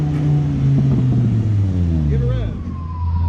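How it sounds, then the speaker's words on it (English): A white-and-black sports car with three centre exhaust pipes, a Nurburgring Edition at a Goldrush Rally in Dallas, revs loudly up close, its pitch rising and then dropping back to idle, with voices nearby. "Give it a rev."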